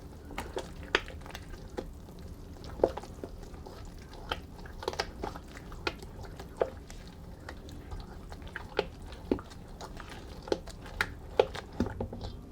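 A spoon stirring a sourdough sandwich bread mixture with honey in a bowl, soft wet scraping with scattered light taps and clicks at a steady, unhurried pace, close and fairly quiet.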